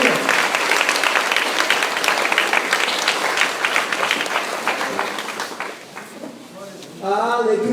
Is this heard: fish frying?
no